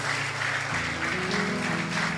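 A church congregation claps hands together in a dense, sustained round of applause, loud and continuous, with a faint musical tone underneath.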